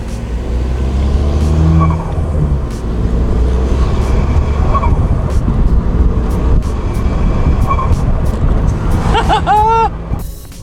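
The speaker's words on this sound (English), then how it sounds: "So I've got like this nice flutter down, and it's just like, it just sounds mint" A car's turbo blow-off valve flutters as the throttle lifts, following an engine rev. The fluttering chirps come near the end, over continuous engine and road noise with faint background voices.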